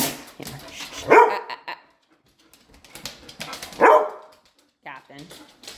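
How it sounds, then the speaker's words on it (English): A vocal dog barks in two loud sharp bursts a few seconds apart, with a softer yip near the end, while a person talks close by between the barks. "He's just a vocal dog, right? He likes to make noise and he likes to hear himself talk."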